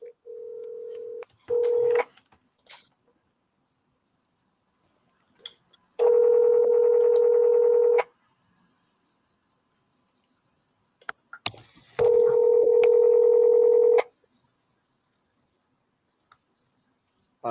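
Phone call placed to a seller: a short dialing tone burst followed by two long ringback tones separated by silence, clear and close, with brief clicks in between.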